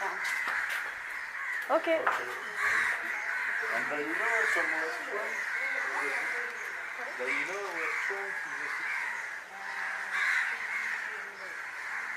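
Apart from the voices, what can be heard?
hundreds of crows cawing in Sri Lanka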